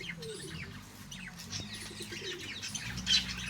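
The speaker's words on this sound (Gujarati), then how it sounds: "આપણા બધા કબૂતર છે" Pigeons in a loft, a few quick wing flaps and scattered chirps and soft coos nearby over a low hum, no voices.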